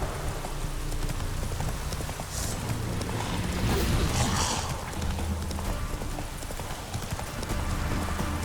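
Roach the horse's hooves clip-clop steadily in The Witcher 3, a continuous rhythmic clatter of close hoofbeats over a bed of rain-like ambient noise.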